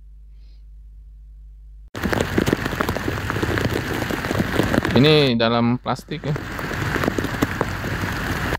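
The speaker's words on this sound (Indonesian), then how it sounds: "nah ini dia pas mau ngantarnya hujan" Rain hisses steadily after a quiet start, with a person speaking briefly over it and some handling noises.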